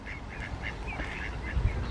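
Ducks at a duck pond quacking in a busy, repeated series of calls, fairly close and loud, with no talk over them.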